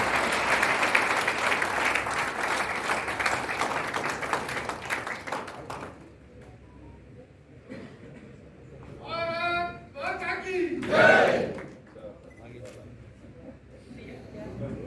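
Loud applause from the audience at a village and town protection committee training and Corona warriors honouring ceremony in Manasa, a dense wash of clapping for about six seconds that gives way to a speaking voice and a brief crowd swell.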